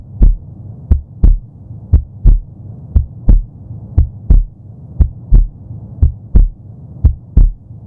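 A slow heartbeat sound effect from a dubbed hospital audio drama thuds loudly in steady double beats over a low hum, about a dozen pulses in a row, with no voices.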